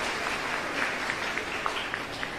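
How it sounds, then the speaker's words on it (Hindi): A crowd of women at a public event in Rajgarh, India claps steadily, a dense wash of applause with scattered sharper claps standing out, moderately loud. "अपने लिए एक बार अपने लिए आप लोग तालियां बजाइए"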